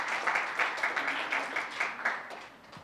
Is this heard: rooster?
no